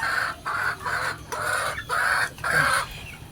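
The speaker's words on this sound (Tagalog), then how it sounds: "Nagutom na rin mga hen ko." Hens cluck close by in a farmyard in a quick, repeated series of nasal calls spaced in short regular bursts.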